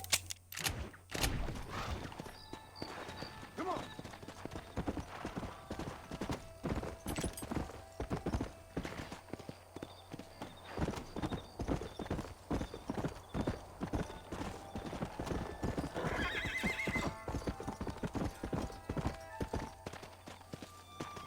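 Horse hooves clip-clop in the video game Red Dead Redemption, a steady run of rhythmic hoof strikes lasting throughout, moderately close, with a brief whinny and some faint game ambience.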